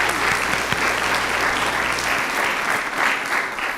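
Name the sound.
applause at a school board meeting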